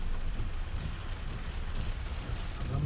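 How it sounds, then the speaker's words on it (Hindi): Heavy rain pours steadily during a road trip near a toll booth on the way from Patna to Jamshedpur, a dense, continuous wash of noise that stays loud throughout with no voices. "बारिश तो ऐसे ही तेज़ हो रही है"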